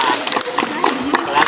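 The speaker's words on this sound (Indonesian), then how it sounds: "Tepuk tangan kawan" A school class claps hands together, a ragged burst of close claps with rhythmic taps, a voice speaking briefly over it.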